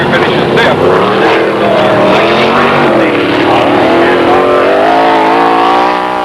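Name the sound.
stock cars racing around dirt speedway track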